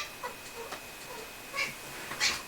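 A house cat meows indoors in a few short, faint calls, with two clearer meows near the end over a steady low background hum.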